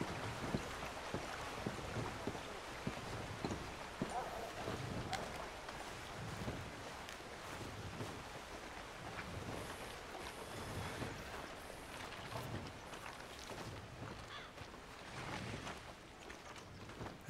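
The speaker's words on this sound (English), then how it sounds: "I listen to the mill here and the river." Outdoor ambience beside a river and a mill in Red Dead Redemption 2, a constant rushing water wash with soft rhythmic thumping from the mill machinery, quiet and steady with no one speaking.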